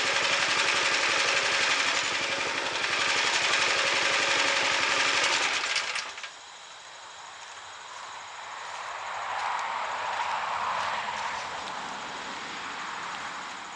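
A small engine on a homemade DIY sawmill idles steadily nearby, a dense buzzing drone that drops in level partway through and continues more quietly, with no talking.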